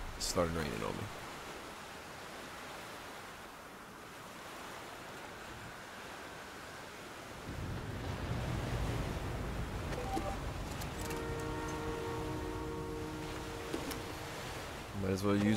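Steady rain hisses in the survival video game The Flame in the Flood, a continuous broadband wash that thickens and grows louder partway through, with faint tonal game sounds near the end.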